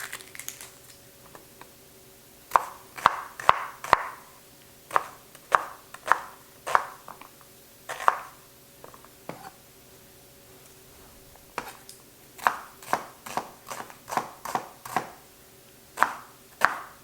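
A knife dices a whole white onion on a cutting board in a home kitchen, with quick bursts of sharp chops broken by short pauses; the cuts sound close and crisp, with no talk.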